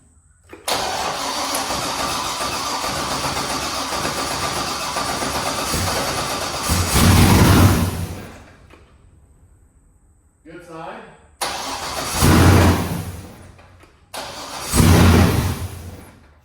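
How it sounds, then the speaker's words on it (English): A V8 car engine, freshly fitted with a Comp Cams NSR drift-spec cam and FAST intake and running without a radiator, cranks and fires for its first start, then runs loud and rough before cutting out, followed by two more short, loud bursts of running. "I'm about to try and fire this thing up for the first time and see what it sounds like"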